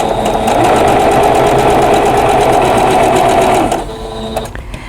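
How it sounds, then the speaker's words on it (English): A sewing machine stitches pieced quilt block fabric, a loud steady rapid mechanical whir running continuously before slowing and stopping near the end. "then you're going to sew from this corner to that corner"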